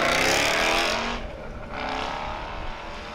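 A 2013 Ford Mustang Boss 302 pulls hard away from the starting line at a road rally event, its loud, broad engine roar close at first, then fading and dropping in pitch as the car moves off.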